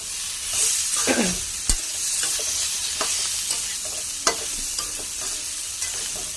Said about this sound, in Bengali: কাশ্মীরি লঙ্কাটাও দিয়ে দিলাম, নাড়াচাড়ি করে দেবো।